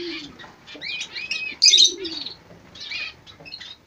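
Lovebirds in a cage, a newly added male among them, chirp and call in quick repeated bursts, with one louder shrill call near the middle; close by, no talking.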